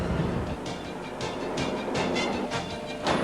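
A coal train in Western Australia rumbles past with steady rhythmic clatter of wheels over rail joints, loud and continuous.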